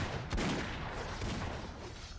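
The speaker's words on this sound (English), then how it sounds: "Oh, now he's shooting." Enemy gunfire in the video game Vampire: The Masquerade – Bloodlines, a dense, loud burst of shots with one sharp blast near the start, fading into a rumbling wash.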